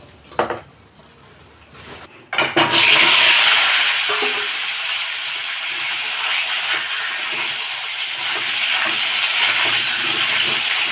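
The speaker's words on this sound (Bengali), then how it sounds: "আলুগুলো ভেজে নেবো" Cut potatoes for khichuri hit hot oil in a pan with a sharp burst, then settle into a steady loud sizzling hiss that runs on without talk.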